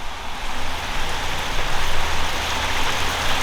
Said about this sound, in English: It will rain, like downpour rain